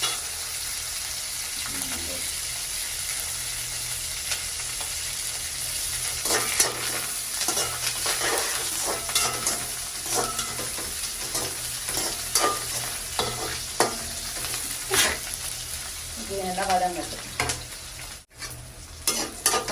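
Ingredients sautéing in a pan at home, a steady soft sizzle with irregular scraping stirs throughout, and a faint voice briefly in the background.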